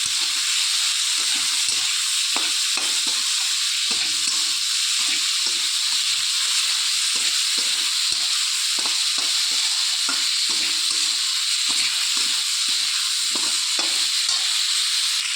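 Mango dal with salt and panch phoron being stirred in a hot pan, a steady sizzle and hiss with scraping strokes of the spoon repeating throughout, no talking.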